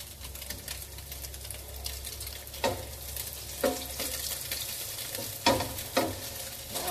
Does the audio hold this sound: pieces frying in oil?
yes